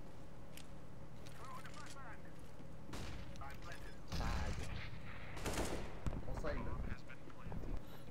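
Gunfire in the video game CS:GO comes as bursts of rapid shots and heavier blasts, mid-distance, over game ambience while players talk over it.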